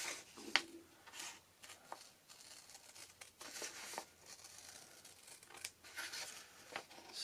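Scissors trim paper beneath a lace edge on a junk journal decoupage cover, giving soft, close snips and paper rustles in irregular bursts, with quiet crinkling between cuts.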